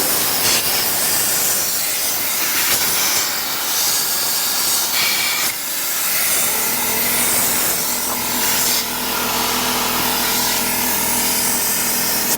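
A handheld air blow gun fitted with a 14-inch extension blasts a steady, loud hissing stream of compressed air into a car's carpet between the seats, the rush shifting in tone as the nozzle moves.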